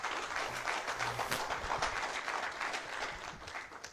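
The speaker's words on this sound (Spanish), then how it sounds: "Dale ofrenda de palmas al Señor, hermano." Church congregation applauding together during a Spanish-language sermon, a steady wash of dense clapping that holds at an even level throughout.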